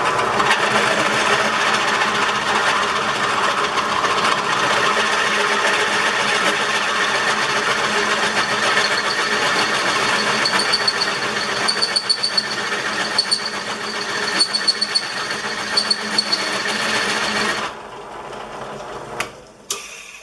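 A drill with a rough bit, dulled from crowning a .223 barrel, grinds steadily against a rifle barrel crown, loud and continuous with a faint high whine, then cuts out near the end leaving brief quieter noises.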